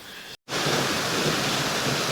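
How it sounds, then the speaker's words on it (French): Runoff water pouring out of the unfinished Urbès tunnel in Alsace, a steady broadband rush like a small waterfall, loud and close, with a brief dropout before the flow resumes. "Voilà les eaux qui sortent du tunnel."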